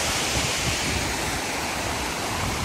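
Water at Tyrshi Falls in Shillong rushes past close by as a loud, continuous broadband roar, steady throughout with no voices.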